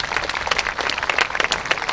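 Applause for school staff at a 2021 high school graduation ceremony: dense, steady clapping from many hands throughout, moderately loud and unbroken, with no talk over it.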